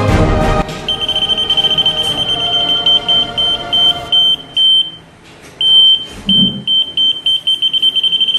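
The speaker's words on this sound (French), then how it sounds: "Notre projet d'aujourd'hui se porterait sur une alarme à l'aide d'un capteur" An Arduino alarm project built with an ultrasonic sensor sounds a loud, close, high-pitched electronic beep, first as a long continuous tone and then in rapid repeated pulses with brief gaps.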